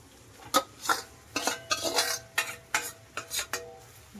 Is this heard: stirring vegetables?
yes